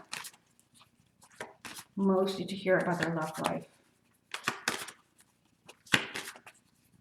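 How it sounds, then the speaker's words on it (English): A deck of tarot cards shuffled at close range in a quick flurry of papery riffles for about a second and a half, with someone talking before and after. "Let's go ahead and shuffle and see what message there is for you."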